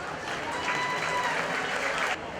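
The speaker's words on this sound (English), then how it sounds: "Let's give that group a round of applause." Crowd applause fills a county fair 4-H and FFA market steer show ring, a steady wash of clapping held for about two seconds before it drops off, with a faint tonal whistle running beneath it.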